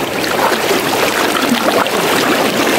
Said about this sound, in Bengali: ঢেউয়ের শব্দ